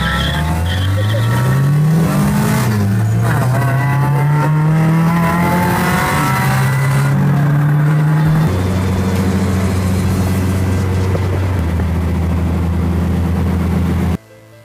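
Cars race each other along a Japanese street in Fukushima City at sunrise, engines revving hard with rising and falling pitch and tires squealing, loud and close throughout.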